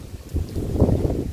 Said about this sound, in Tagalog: Na malakas naman ang hangin.